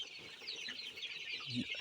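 A group of 24-day-old Sonali chicks cluck and chirp softly nearby, faint high peeping calls running continuously with a few brief louder peeps near the end.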